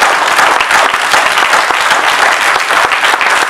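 Applause from the audience at a board of elections meeting, steady and loud, with many hands clapping together throughout and no speech over it.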